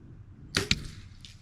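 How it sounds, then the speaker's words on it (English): An arrow shot from about ten yards strikes a cinder block wall in a torture test, making two quick sharp cracks close together, fairly loud against quiet outdoor background and followed by a faint tail. "because I'm going to be putting this into that cinder block wall. So we're going to see if it blows up."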